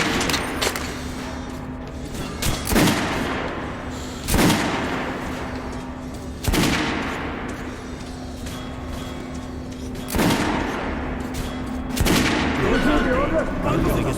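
Gunfire in the video game Metro Last Light: five loud, sharp shots spaced a couple of seconds apart, each with a short ringing tail over a steady low hum and game ambience.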